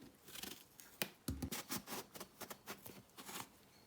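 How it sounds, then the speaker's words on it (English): A knife cuts through a frozen aubergine on a board in a series of quick, crisp chopping and slicing strokes, close and fairly faint, with no talk. "So first I'm going to cut the aubergine or bagan."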